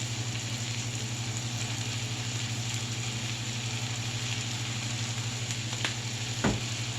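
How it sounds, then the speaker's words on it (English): Swiss steak simmering and sautéing in a pan with seasoning, a steady low sizzle and bubbling hiss running evenly throughout under a faint steady hum, with one brief louder clink near the end. "we'll just let that simmer and saute them until they're done"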